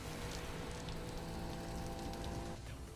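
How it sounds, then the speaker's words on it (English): Heavy rain during a rainy downhill race in the Initial D 4th Stage anime, a constant dense hiss of falling water with a faint engine-like hum beneath it, steady and unbroken for the whole span. "This rain's a bitch, that's why."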